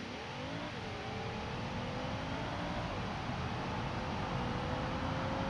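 In the BeamNG driving game, a car launches with launch control: a steady engine roar that climbs in pitch as it accelerates, a brief drop at a gear change, then a continued climb over steady noise.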